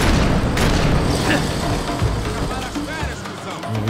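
Booming gunshots from the Max Payne 3 video game ring out amid heavy low rumble and slow-motion effects, with someone talking over the action.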